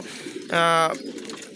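A racing pigeon at a pigeon farm gives one brief, strong cooing call midway, set against a low, steady background murmur.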